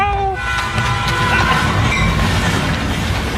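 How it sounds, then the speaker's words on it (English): A loud train rumbles past close by, a steady roar of wheels and clatter with a fading horn-like tone at the start, continuous and heavy for the whole stretch. "That dang invisible train."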